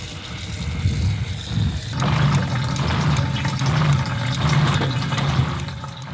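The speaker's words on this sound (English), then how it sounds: "now when we turn on the faucet, we just get running water on demand" Steady rushing water from an outdoor kitchenette faucet fed by a small pump with an accumulator, a low pulsing motor hum underneath, continuous and fairly loud.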